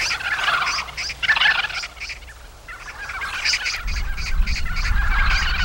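Large flock of wild vultures gathered in a feeding frenzy over carrion at Jangdan, a throng of harsh hissing, grunting and gobbling calls overlapping continuously, with a low rumble of wingbeats and scuffling swelling in the second half.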